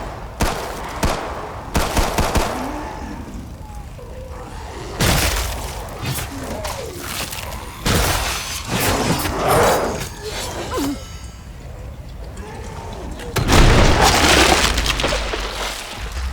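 Pistol grenade launcher shots and booming explosions in the Killing Floor 2 video game, loud bursts scattered through a dense wash of game noise with shattering and creature sounds, ending in a heavy sustained blast.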